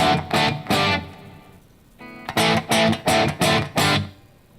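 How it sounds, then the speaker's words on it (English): Electric guitar played through a Marshall amp with no reverb, dry and distorted: two strummed chords, a pause, then a run of five sharp, punchy chord stabs, close and loud with no voices. "it's super dry, which is the sound of a Marshall"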